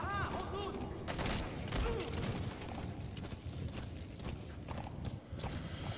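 D-Horse gallops in the video game Metal Gear Solid V, with quick rhythmic hoofbeats close up, mixed with gunfire-like bursts and other game effects, under a busy soundscape.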